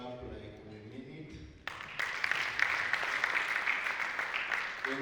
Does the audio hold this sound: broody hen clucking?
no